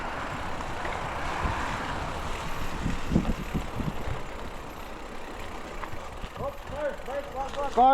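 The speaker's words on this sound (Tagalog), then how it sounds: "Car, motor." Vehicle engines running beside a highway, a low rumbling drone with traffic passing at a middle distance, steady throughout, while people talk nearby.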